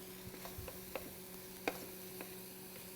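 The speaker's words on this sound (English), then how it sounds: "Give it a nice stir, and you can just smell all the spices" Garlic and spices fry in a pan for an Indian vegetarian dish, giving a faint steady sizzle broken by a few soft scraping ticks from a spoon stirring, with no talking.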